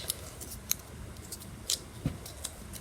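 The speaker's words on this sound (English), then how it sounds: "And then you cut." Scissors snip through tape in a few short, crisp, separate cuts, close and fairly quiet against a soft room background.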